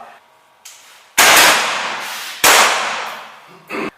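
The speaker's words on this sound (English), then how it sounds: "I had no choice but to open fire to defend my life." Loud gunshots ring out in a tactical self-defense training scenario against an active shooter: two sharp, close blasts with long ringing decays, followed by a shorter third burst, and no talk.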